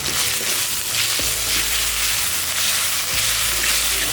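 Steady, loud sizzling of masala spice paste frying in hot oil for chicken curry, a continuous crackling hiss with a few faint stirring knocks.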